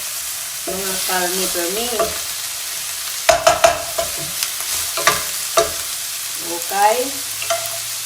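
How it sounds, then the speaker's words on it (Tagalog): White onion fries and is stirred in a pan, giving a steady sizzle with scraping spoon knocks and clinks, while a person briefly speaks over it. "So, ilagay ko na si puting sibuyas. White onion."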